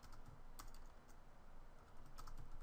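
Quick, steady clatter of typing on a computer keyboard, keys tapped in irregular bursts at close range with a faint room hiss beneath.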